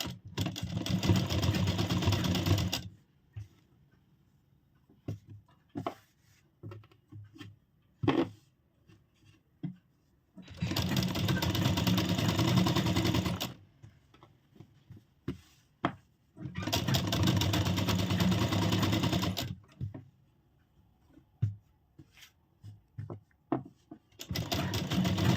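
A sewing machine stitches blouse fabric in three long loud runs of steady whirring, separated by quiet gaps filled with small handling clicks and taps.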